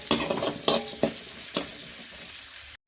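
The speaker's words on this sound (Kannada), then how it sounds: "ಈರುಳ್ಳಿ ಸ್ವಲ್ಪ ಬ್ರೌನ್ ಕಲರ್ ಬರೋವರೆಗೂ ಫ್ರೈ ಮಾಡ್ಕೊಳ್ಳೋಣ." Small sambar onions, finely chopped, frying in a pan and stirred, a soft steady sizzle broken by four or five scraping stirs close up, with no talk.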